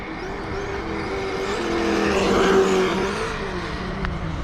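A Traxxas Slash 2WD VXL radio-controlled car on a 2S battery runs through a grassy field, its electric motor whining steadily and swelling louder as it nears mid-run before easing off.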